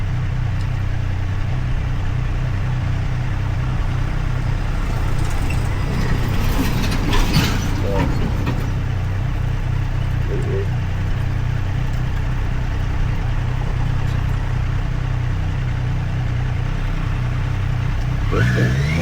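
A Triumph Street Triple 765 RS motorcycle engine and exhaust runs steadily for about nineteen seconds, with a low continuous rumble. Brief bursts of revving come around the middle and again near the end, and no voices are heard.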